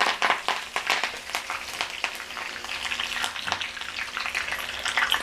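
Curry leaves fry in hot oil as tempering for lemon juice pickle, a close, steady crackling sizzle with sharp pops and spatters throughout.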